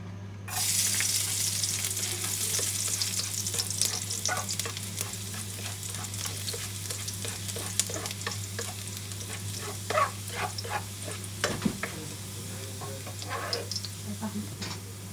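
Garlic frying in a pan for Zambales-style beef hinalang: a continuous soft sizzle with scattered crackles and pops, close and fairly quiet, steady for the whole stretch with no talking over it.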